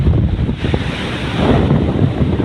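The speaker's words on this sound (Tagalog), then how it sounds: "Lakas ng alon." Strong ocean waves churn and surge along a typhoon-battered coastline, a dense continuous roar close to the microphone with heavy wind buffeting mixed in and no voices.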